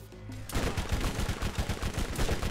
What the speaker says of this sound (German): Ich mach so ein bisschen Sniper-Action mit der Pistole.